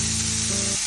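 Loud, hissing sizzle as steamed green beans drop into hot oil with fried tempering spices, a brief burst of continuous crackling close up with no voices.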